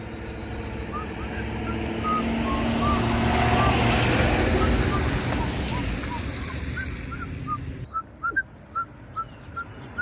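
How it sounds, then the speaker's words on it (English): A truck pulls up in a garden setting at spring, its engine rumble swelling and then fading while steady reversing beeps repeat in a regular rhythm toward the end, moderately loud and near. "And here comes the truck."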